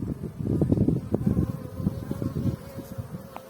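Honeybees hum inside a hive while a new queen is introduced to a queenless colony: a low, steady, fluttering drone with soft shifting swells, close and moderately quiet, with no talk.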